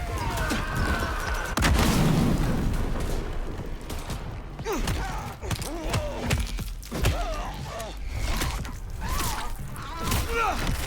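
Gunfire erupts in Vampire: The Masquerade - Bloodlines 2, with loud bursts and booming thumps scattered across a chaotic firefight, mixed with in-game voices calling out.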